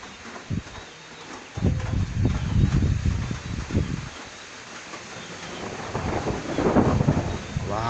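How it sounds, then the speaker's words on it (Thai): Rain beginning to fall over an open rice field in stormy weather, a steady wash of noise with low rumbles and gusty wind buffeting the microphone, swelling louder toward the end. "เริ่มที่เปาะแปะเปาะแปะซาซาลง แล้ว ฝน"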